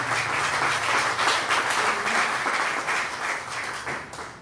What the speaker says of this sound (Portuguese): Pode aplaudir o Espírito Santo